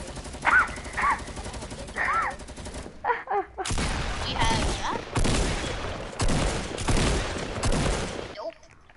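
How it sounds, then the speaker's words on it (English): Fortnite gunfire, loud bursts of rapid shots coming in clusters across the clip, with short gaps between volleys and some game sound effects mixed in. "I shot him every shot up. I got him every shot."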